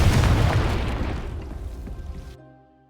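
A loud Confringo spell explosion from Hogwarts Legacy bursts with a deep boom, then rumbles and decays for about two seconds before cutting to silence, with no voices.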